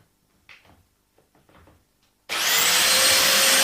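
Mafell DD40P dowel drilling machine boring into wood: quiet handling taps and shuffles, then the motor abruptly starts and runs as a loud, steady high whine to the end.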